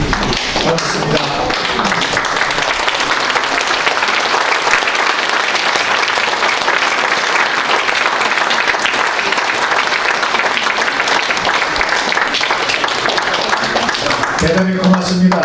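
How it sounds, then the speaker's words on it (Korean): Sustained, dense applause from a large symposium audience in a hotel hall, welcoming the hotel's owner, steady and loud for about fourteen seconds before tapering off as a voice begins to speak. "박수로 환영해 주시면 고맙겠습니다."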